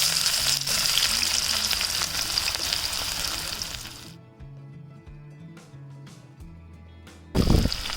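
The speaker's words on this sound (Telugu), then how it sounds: "ఇంకా నూనె అయితే ఫుల్గా హీట్ ఎక్కిందనమాట. ఇప్పుడైతే ఉల్లిగడ్డలు అయితే వేసేస్తాను." Chopped onions dropped into fully heated oil in a home kitchen, a strong sizzle that drops away abruptly, then faint crackling and a brief loud burst near the end.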